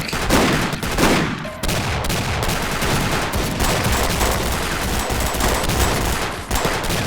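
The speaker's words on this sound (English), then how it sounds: "automatic weapons in the very first real level" Dense automatic weapon gunfire from the Max Payne 2 video game, loud and sustained bursts of rapid shots over nearly seven seconds with a brief break near the start.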